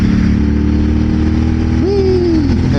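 A 2026 Aprilia RS 660 motorcycle engine runs loud and steady, then briefly rises in pitch as the throttle opens before settling back, with a faint voice underneath.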